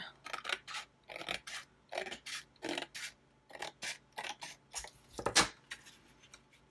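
Scissors trimming a strip of paper for a calendar page, a run of about a dozen crisp, close snips in an uneven rhythm, each a short bright rasping cut, with no voice.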